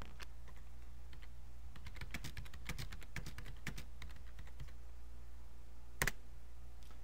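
Typing on a computer keyboard, a burst of close, quick key clicks with uneven rhythm over a steady low hum, then a pause and one louder click near the end.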